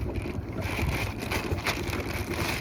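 Gusty wind buffeting the microphone outdoors near water while trout fishing in Utah, a continuous rough rumble with no voices.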